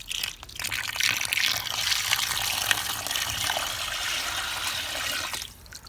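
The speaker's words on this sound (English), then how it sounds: "add water to the water pan" Water pours steadily into the water pan of a Weber Smokey Mountain smoker, a close, continuous gushing splash for several seconds before tapering off, with no talking.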